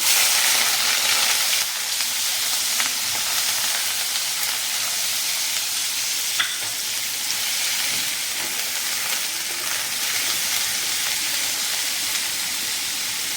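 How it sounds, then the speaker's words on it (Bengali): Chopped onion, garlic, ginger and green chilli sizzle in hot oil while a dish of crispy fried mourala fish is prepared, a loud, steady hiss that stays constant throughout with only faint clicks and no talking. "দিচ্ছি পেঁয়াজ, রসুন, আদা, কাঁচা লঙ্কা কুচনো"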